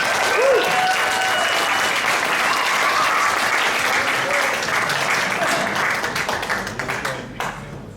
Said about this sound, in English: can you please give it up for John